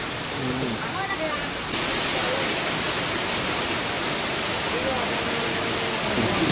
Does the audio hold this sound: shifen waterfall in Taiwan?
yes